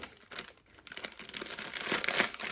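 Plastic packaging around small wooden table decorations being opened, giving close crinkling and tearing that builds from soft rustles to a dense, louder crackle, with no voice.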